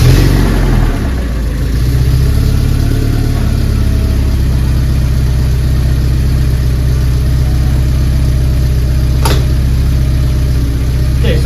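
A Porsche 944 engine fitted with a new motor mount idles close by in a loud, even, low hum that stays steady throughout, with a brief click near the end.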